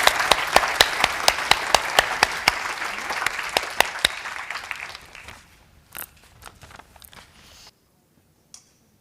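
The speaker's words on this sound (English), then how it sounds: "Another round of applause for our panelists." Audience at a conference closing session applauding panelists, a burst of dense clapping that thins out and fades into a few scattered claps before silence.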